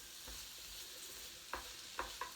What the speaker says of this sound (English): So I'm going to go ahead and put the oil and the garlic in with the kale. And we'll just keep sauteing this